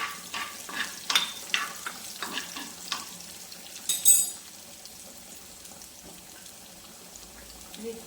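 Onion and fenugreek sizzling in a pan for a Kerala fish curry, with soft frying crackle and a few scraping stirs and clinks early on, then settling into a quieter, steady low sizzle.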